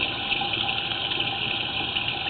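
Water draining and rushing through a sewer pipe line with a sag in it, a loud, continuous gushing hiss at a steady level, heard close with no voices.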